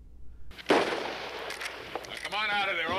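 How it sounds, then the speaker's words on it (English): Gunfire in a film, one sharp loud shot followed by a few lighter cracks and echoes, with a voice rising over the end of the burst. "Gunfire!"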